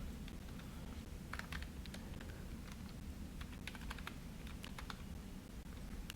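Computer keyboard typing while entering a profile URL, with sparse clusters of light keystrokes over a constant low background hum, faint and close, no talking.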